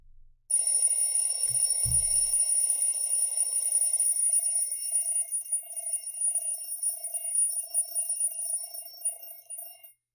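An electronic bell rings continuously and steadily, close and clear, with no other sounds.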